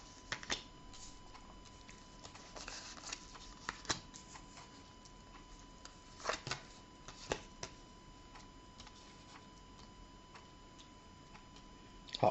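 Fortune-telling cards are shuffled during a live psychic broadcast, faint soft riffling and scattered light taps and flicks over a quiet background hum.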